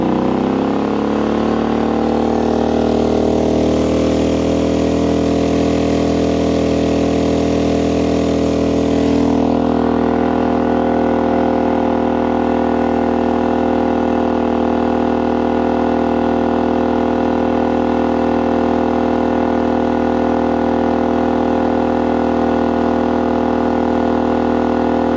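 A MaXpeedingrods MXR4000GT dual fuel generator runs under increasing electrical load, its steady loud engine hum shifting in pitch and tone partway through, then holding a constant drone with no talk.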